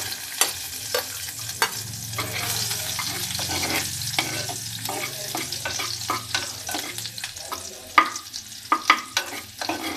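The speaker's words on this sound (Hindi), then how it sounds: "अब इसके अंदर लहसुन डाल देती हूँ।" Steady frying sizzle of garlic in hot oil, close and continuous, with scattered clinks and scrapes of stirring, louder sharp knocks near the end.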